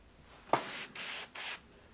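A handheld spray bottle spritzes water in three short hissing bursts, close and fairly loud, separated by brief pauses in a quiet indoor space.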